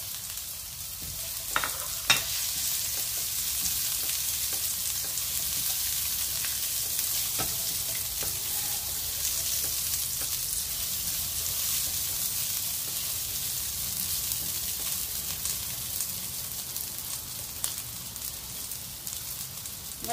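Ginger and onion frying in a pan for a spicy pork liver and intestine adobo, a steady close sizzle with faint crackles and occasional pops throughout.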